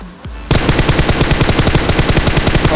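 Rapid automatic gunfire in a shooting video game: after a brief quiet lead-in, a loud, close burst of fast, evenly spaced shots rattles on continuously to the end.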